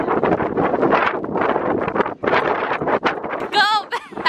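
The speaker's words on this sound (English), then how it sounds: "it's still super windy" Strong wind buffets the microphone in loud, rushing gusts, with a brief high squeaky sound near the end.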